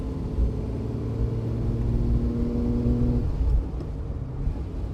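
A 1969 Ferrari 365 GTC engine pulls hard through the gears from inside the car, with a loud steady rumbling drone that holds a rising tone, then drops sharply as the next gear engages near the end.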